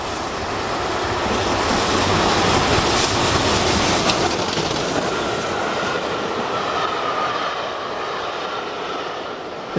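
The Clan Line steam train rumbling loudly with a dense, hissing roar and faint rhythmic clatter as it approaches Canterbury station, gradually easing off toward the end.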